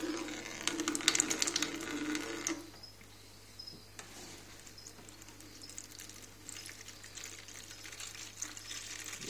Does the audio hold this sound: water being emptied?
yes